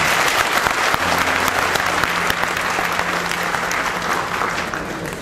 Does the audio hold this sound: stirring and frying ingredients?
no